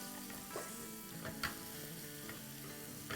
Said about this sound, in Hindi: हमें मिर्चों को फ्राई करना है।